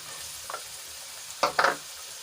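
Eggplant, cowpeas and chopped tomato sautéing in a pan for a traditional Gujarati vegetable dish, with a faint background sizzle and a few short bursts of stirring scrapes near the end.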